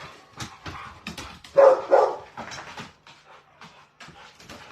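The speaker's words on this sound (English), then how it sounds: "the dogs are all getting really excited because they know it's about time to go out" Several dogs barking and whining excitedly indoors, with loud bursts in the middle and quieter yips and whimpers around them, close to the listener and with no talk over them.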